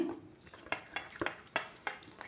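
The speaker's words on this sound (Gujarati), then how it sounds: "આમાં ડીશમાં નાખી તપકીરનો લોટ ને આમ હલાવી લેવાનો." Potato patties for a fasting-day snack being rolled in starch flour on a plate, giving a series of light clinks and scrapes at an uneven, roughly steady rhythm, close and fairly quiet with no talking.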